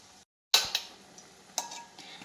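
Gram flour and spices being stirred for a dried pigeon pea curry, with a few close clinks and scrapes of a spoon against a pot after a brief silent gap.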